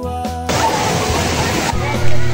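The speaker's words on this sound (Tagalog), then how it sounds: "yung tubig na yan guys ay papunta yan sa irigasyon" Overflowing water rushes toward an irrigation channel at a hidden paradise spot in Cabacungan, La Castellana, Negros Occidental, a loud, steady, close gush that briefly drops away before returning.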